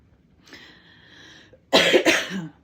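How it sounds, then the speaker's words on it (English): A person clears their throat with a harsh, rasping burst of under a second, close and loud, after a softer, sustained hum-like tone. "I'm going to go ahead and clear my throat chakra."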